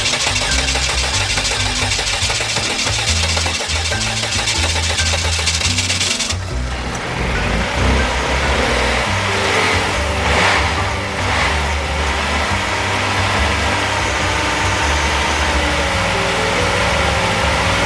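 A car engine cranks and catches, then settles into a steady, close running idle with some rising revs.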